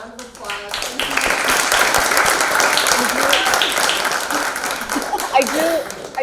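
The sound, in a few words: audience applause after a theatre performance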